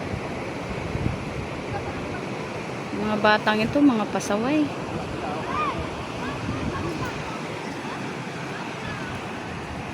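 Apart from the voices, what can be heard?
rushing water of a swollen river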